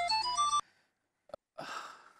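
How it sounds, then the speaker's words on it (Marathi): A mobile phone ringtone plays a bright electronic melody for about half a second in a domestic scene from a Marathi TV serial, then cuts off. A faint click and a soft breathy rustle follow. "अरे सिद्धार्थचाच फोन आहे."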